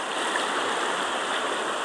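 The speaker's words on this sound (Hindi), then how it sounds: "तो मेन रास्ता के ऊपर में पानी जा रहा" Floodwater rushing steadily across a main road in Assam, a broad, continuous watery roar that stays close and loud throughout with no speech.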